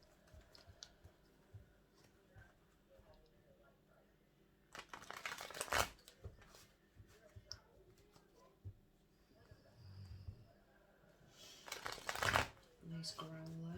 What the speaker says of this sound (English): I'm just going to shuffle in and just clarify two of these cards